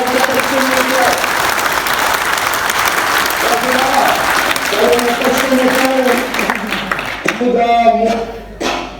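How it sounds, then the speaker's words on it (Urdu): Audience applause fills a hall during a political speech, loud and sustained for about nine seconds, with a voice talking over it at intervals. "تالیاں بجائیں"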